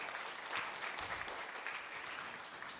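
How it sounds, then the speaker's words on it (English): A conference audience at an annual postgraduate event claps steadily, a faint and somewhat distant wash of applause lasting a few seconds without a voice over it. "Please, let's give him a round of applause."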